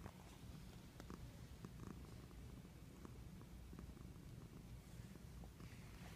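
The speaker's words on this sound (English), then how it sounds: "listen, she's purring." A cat purrs in a soft, continuous rumble, close and quiet, while being petted.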